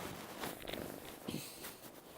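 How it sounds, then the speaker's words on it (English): A cat purrs close to the microphone, a soft, steady low rumble running throughout the short stretch, faint overall and with no talk over it. "You can hear him purring too."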